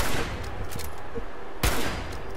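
Video-game gunfire in Fallout 4: a rapid, loud burst of shots crackles through the short stretch, with one heavy blast standing out near the end.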